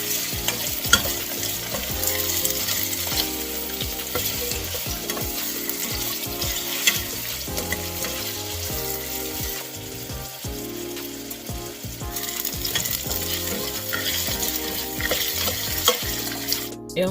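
Onions and green onion fry in a pan for an African spinach sauce, giving a steady, close sizzle with frequent scraping and clattering stirring strokes throughout and no talking.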